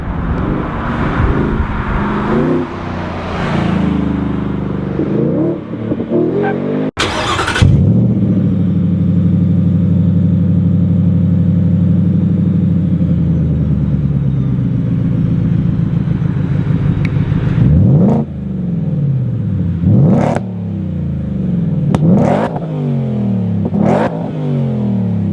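A Ford Raptor R's powerful engine revs hard while driving on the street, loud rising and falling roars with a long sustained pull and several sharp throttle bursts near the end, close by without speech.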